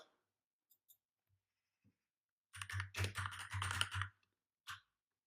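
Short burst of keyboard typing as a folder name is entered on a computer, a quick run of close clicky keystrokes lasting about a second and a half, with a few isolated taps before and after and no talking.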